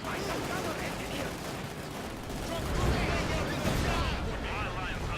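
Battle sounds from the Company of Heroes 2 campaign "Scorched Earth": dense, continuous gunfire and heavy artillery rumble that swells midway, with voices shouting over the din.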